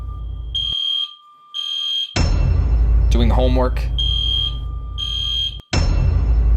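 A fire alarm blares in repeated loud electronic beeping bursts, interrupted by a brief spoken voice and short gaps, the pulses returning steadily near the listener.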